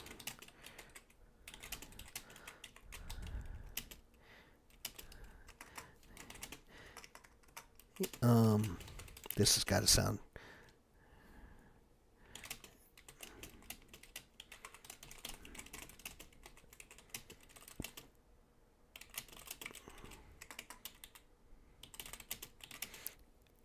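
Rapid typing clatters on a computer keyboard in scattered bursts throughout, with a louder burst of handling noise partway through and a person speaking briefly.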